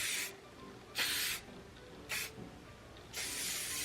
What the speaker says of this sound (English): One last little spritz